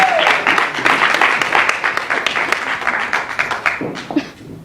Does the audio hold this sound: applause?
yes